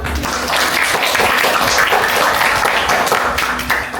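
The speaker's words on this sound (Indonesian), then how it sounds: "Tepuk tangan dong." A group of fourth-grade schoolchildren on an agricultural library field trip claps, a dense steady patter of applause running the full few seconds at fairly close range without clear speech.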